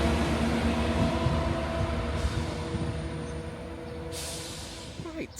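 A Northern train on the Leeds to Harrogate line at Pannal station, a low rumbling drone with steady tonal hum, a couple of brief hissing bursts as it stands and moves off, fading slightly near the end.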